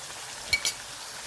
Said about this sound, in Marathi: तेलामध्ये बारीक कट केलेला कांदा व्यवस्थित गुलाबी रंगात परतून घ्यायचा